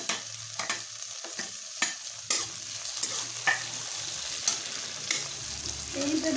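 Tomato pieces dropped into lightly browned onions frying in a tadka, with steady close sizzling broken by repeated sharp stirring scrapes and clacks of a spoon against the pan.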